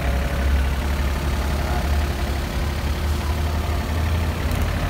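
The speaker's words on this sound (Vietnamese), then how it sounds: "xe đang nổ máy hoạt động." The diesel engine of a Kobelco SK30SR mini excavator idles steadily at close range, a continuous low rumbling drone with busy road traffic noise mixed in.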